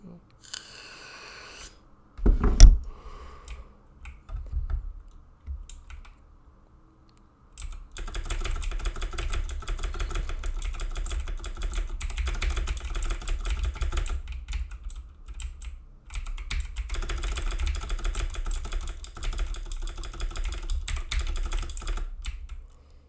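A computer keyboard clatters in rapid, uneven bursts of key presses during a Soul Knight gaming session, with quieter pauses between stretches of typing.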